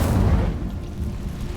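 Incendio fire spell cast in Hogwarts Legacy, a dense low whooshing burst of flame that starts loud and settles into a sustained rumbling roar, heard alone.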